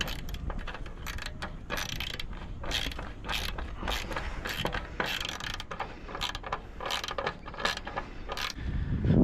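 Ratchet clicking as bolts are tightened on a platform aboard a 40-year-old sailing boat, close-up rhythmic metallic clicks and creaks repeating steadily throughout.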